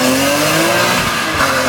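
BMW E46 M3 with a six-speed manual, driven with traction and stability control off in sport mode, pulls hard with a loud, steady engine drone and rising harmonic tone from inside the cabin.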